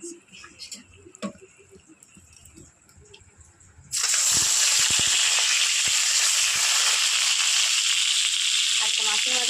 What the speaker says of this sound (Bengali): মাছের মাথাটা কিন্তু আমার পুরোপুরি ভাজা হয়ে গেছে